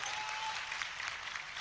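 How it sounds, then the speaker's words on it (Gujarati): A live crowd at a Gujarati folk comedy performance claps steadily, a dense even wash of applause heard from a distance at moderate-low level throughout. "એસવી ને તાળીના ગગડાટ થી વધાવો"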